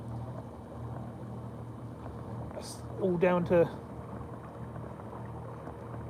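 A small boat's 10 hp outboard motor runs on the river between Potter Heigham and Thurne Mouth, giving a steady low, even drone throughout. A person speaks briefly partway through, over the engine.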